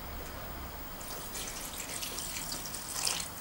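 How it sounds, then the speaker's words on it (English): Water pours into a pan of curry, a faint, steady splashing trickle that gets slightly louder toward the end, heard alone at low level. "What we'll do is add a little bit of water."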